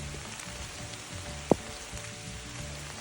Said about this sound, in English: starting to sprinkle and coming a downpour on us